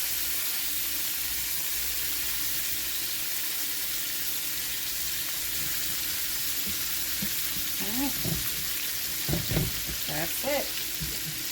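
Green beans sautéing in brown butter with lime, garlic, zest and herbs, giving a steady close sizzle and hiss with occasional stirring, while a voice speaks briefly near the end.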